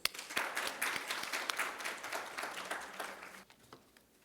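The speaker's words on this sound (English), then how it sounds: "Join me in a round of applause." An audience at a business event in Sharjah gives a round of applause, a dense spread of many hands clapping that rises abruptly, holds, and then thins out toward the end.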